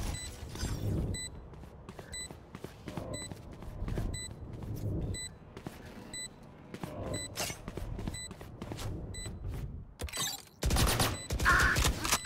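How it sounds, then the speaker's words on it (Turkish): Valorant match sound with a deployed Alarmbot beeping in a steady repeating pattern of short high pips, layered over gunfire bursts and loud game effects. "Alarm botu çıktı."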